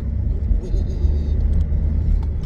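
Steady low engine rumble inside a moving car, droning continuously at close range with faint higher clicks over it.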